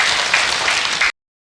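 Short burst of audience clapping at an Islamic lecture by an ustaz, a moderate, even patter of hands that cuts off abruptly after about a second.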